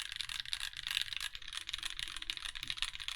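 Keys clack in a fast, uneven stream as someone types on a Void65 mechanical keyboard, crisp close-up clicks with no voices.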